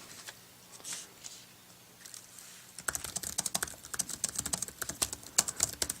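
Faint rustling gives way to crisp, brisk typing on a bare MacBook Air 11-inch keyboard, key clicks sharp and close in quick irregular runs, no talking.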